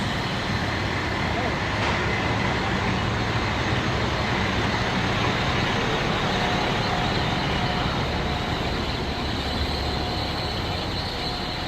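A harsh, steady metallic squeal and grinding roar of fire truck brakes runs continuously, loud and close, with traffic noise underneath.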